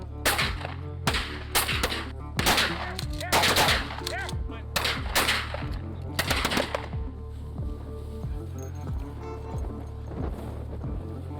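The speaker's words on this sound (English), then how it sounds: "we're getting ready to shoot here again." Repeated loud shotgun blasts crack out in a quick irregular volley during a South Dakota pheasant hunt, several in succession, then stop, leaving a low steady motor hum underneath.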